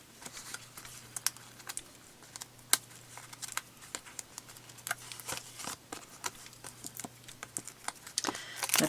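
Adhesive foam dimensionals for a handmade shaker card have their paper backing peeled away, giving a run of small, quiet crackles and ticks spread unevenly over a steady low hum, with no talking.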